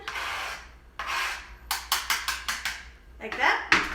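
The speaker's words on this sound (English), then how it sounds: "once your onion is all chopped up, you're gonna go ahead and scrape it into that pan" Chopped onion scraped from a board into a pan with a utensil: a series of short rasping scrapes, then a fast run of rhythmic strokes and a louder sizzle-like burst near the end, close and clear.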